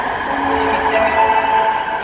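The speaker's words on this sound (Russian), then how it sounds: "Это у меня видео будет про метро, как добираться. Но очень шумит, конечно, скорость бешеная." Driverless metro train in Istanbul running at high speed, a loud, steady rumble with a sustained whining tone on top, continuous throughout with no voices.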